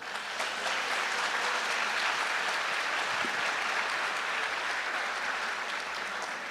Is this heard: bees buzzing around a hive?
no